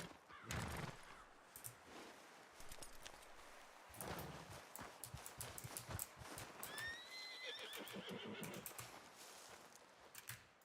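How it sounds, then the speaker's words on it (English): In Red Dead Redemption 2 role-play, a horse's hooves clop irregularly over the ground, close and fairly quiet, and a high whinny rises near the middle, with faint clicks and small noises around. "Dick, this horse of yours is about crazy"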